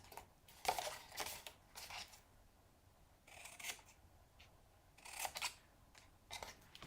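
Scissors make several angled cuts through folded paper, close and quiet, each snip a short crisp crunch arriving in small clusters with soft pauses between.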